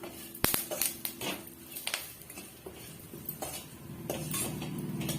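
Garlic and curry leaves roast in a pan for garlic podi, a spoon scraping and clinking against the metal in irregular strokes, with one sharp click early on and a soft steady hiss building toward the end.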